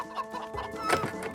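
Chickens in an animated children's show cluck in a rapid, close, busy burst of overlapping squawks as they are herded together in front of a cage.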